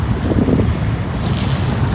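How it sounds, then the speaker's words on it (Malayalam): Strong wind at Beypore harbour, Kerala, rushes and buffets the microphone in a steady, loud roar with low rumbling gusts. "നല്ല കാറ്റും"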